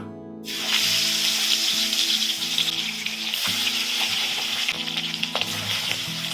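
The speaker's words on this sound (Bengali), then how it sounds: "ভাজা বড়িগুলো তুলে নেওয়ার পরে এবারে আমি মাছ ভেজে নেব" Tangra fish frying in hot oil left from frying lentil dumplings, a steady loud sizzle and crackle throughout with occasional sharper spits and pops, no voices.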